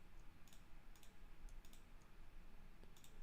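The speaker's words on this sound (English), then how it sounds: "I'm clicking everything" Faint computer mouse clicks during design work at a desk, a few quick single and double taps scattered over steady background hiss.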